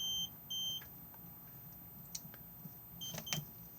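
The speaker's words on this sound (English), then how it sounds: "At the moment if I press this, it will beep because we are not hitched up to anything." Two short electronic beeps from a Swift Challenger 645 caravan's 12 volt unit warning while unhitched, close by, followed by faint clicks and a couple of brief tones against quiet background hiss.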